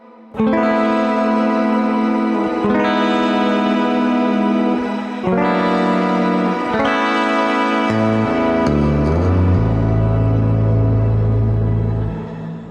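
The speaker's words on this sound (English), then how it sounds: "It gives you this reverby sound from the delay pedal" Sustained electric guitar chords washed in heavy reverb-like echo from a delay pedal, each strike blooming and lingering, ending in a deep, roomy swell.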